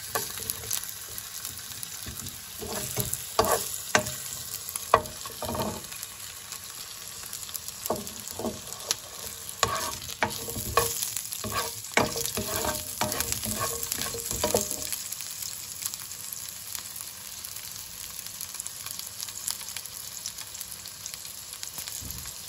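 Onions frying in a pan for masala vada give a continuous crackling sizzle, broken through the middle by a run of sharp stirring clicks and scrapes before settling back to a steady fry.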